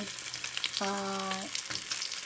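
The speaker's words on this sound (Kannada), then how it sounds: "ಈಗ ನಾ ಬೇವಿನ ಸೊಪ್ಪು ಎಷ್ಟು ಲಾಯ್ಕ್ ಫ್ರೈ ಆಗ್ತಾಯಿತ್ತು ಕಾಣಿ" Curry leaves frying in hot oil alongside masala-coated fish, a steady broadband sizzle running throughout, with a short tonal beep-like sound partway through.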